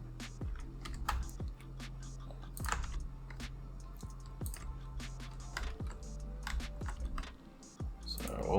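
Computer keyboard keys are pressed irregularly while modelling in Blender, producing sharp separate clicks and short bursts of taps over a faint steady hum.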